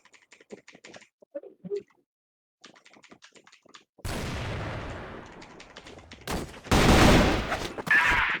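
Gunfire from a Counter-Strike clan war match, with sniper rifle shots: a loud burst of several shots in the second half, following quieter clicks and faint game sounds, with no talk.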